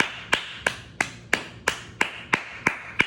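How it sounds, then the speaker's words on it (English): Steady, evenly spaced hand claps, about three per second, sharp and close, with no voices. "Give yourselves a round of applause."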